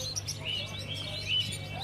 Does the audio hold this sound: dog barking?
no